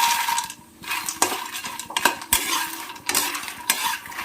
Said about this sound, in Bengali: এবার মাখানাটা দিয়ে একটু নেড়ে নেব।